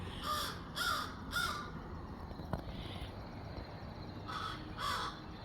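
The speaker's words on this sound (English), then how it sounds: "I just never heard the crows cackle like that." Crows caw in bursts of three harsh calls, then fall quiet before two more caws, fairly close and loud over light outdoor background noise.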